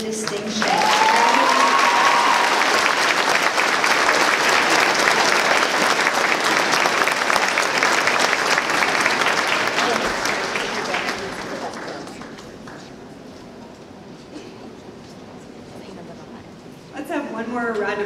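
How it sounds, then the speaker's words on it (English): Audience at a Grade 9 school awards ceremony breaking into loud, dense applause that holds steady for about ten seconds, then thins to scattered claps and fades, with a voice returning at the end. "Let's have one more round of applause"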